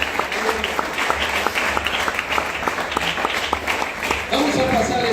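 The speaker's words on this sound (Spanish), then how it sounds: "Vamos a darle un aplauso a nuestro Señor." A church congregation claps steadily in a dense, continuous burst of applause that fills the hall and swells louder near the end, with voices mixed in.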